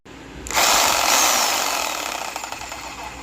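A Sawzall reciprocating saw cuts through an old exhaust tailpipe on a Mustang, starting abruptly and running as one loud, steady, buzzing grind for about three seconds before easing slightly near the end, with no talking.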